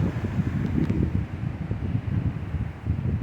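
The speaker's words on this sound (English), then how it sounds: "Here comes another gust." A strong gust of Hurricane Ian roaring around a container home, a dense, buffeting rumble of wind battering the microphone, surging and easing continuously without any talk.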